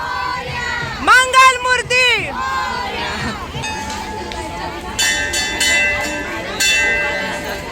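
A dense crowd at the Ichhapurti Ganpati temple in Dhule fills the air with loud babble and voices, while temple bells ring out repeatedly over the steady hubbub.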